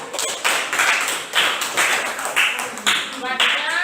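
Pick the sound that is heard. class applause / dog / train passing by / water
class applause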